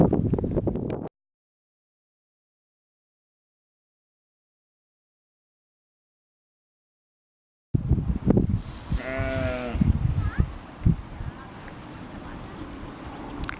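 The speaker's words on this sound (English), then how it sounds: "there's a lot of sheep here" Sheep at an Irish castle site bleat in a quavering call after a stretch of silence, heard outdoors amid wind noise and rustling, fairly close and clear.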